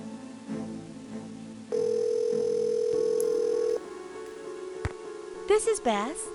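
Telephone in the 1998 Nancy Drew game Secrets Can Kill: a steady electronic dial tone holds for about two seconds, framed by soft clicks and a short burst of warbling tones near the end.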